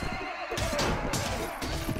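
A horse whinnies in the medieval combat video game Mount & Blade Warband, a loud neigh over a busy battlefield mix of hooves and clashing noise.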